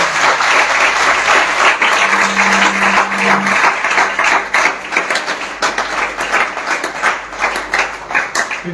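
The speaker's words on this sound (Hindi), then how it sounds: "आइए हम जोरदार ताली प्रभु यीशु मसीह के लिए बजाएंगे" A congregation at a Sunday church service breaks into loud, sustained applause for Jesus Christ, dense clapping from a large crowd holding steady throughout with no voices above it.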